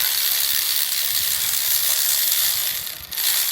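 A ratchet wrench with socket extensions works on a Camaro during an LS3 engine swap, making rapid, continuous close clicking that briefly dips near the end.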